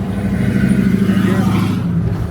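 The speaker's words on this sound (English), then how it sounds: "sexy ass, loud ass truck" A loud truck passes close, its engine a steady heavy rumble that fills the whole stretch and eases slightly toward the end.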